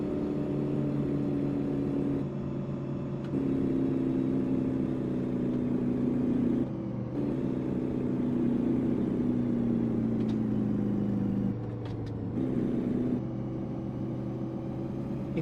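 A battle truck engine in American Truck Simulator drones steadily at a mid pitch, with the tone dipping and recovering at a few gear changes and no voices over it.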